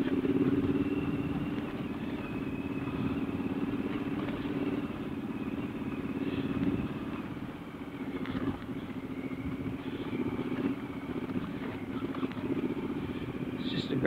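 A Triumph Scrambler 1200 motorcycle ridden off road on Ilkley Moor, its engine a steady, continuous drone close by, with clattering from the rough ground.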